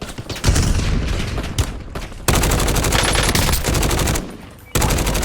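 Rapid automatic gunfire in the Warzone video game, loud bursts of rattling shots with brief gaps between volleys, close and dense.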